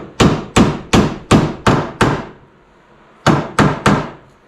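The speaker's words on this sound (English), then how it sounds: "Grab your mallet again." A mallet strikes a greased part on a Ford D150 truck in nine sharp, loud, close blows: six evenly spaced, then a pause, then three more.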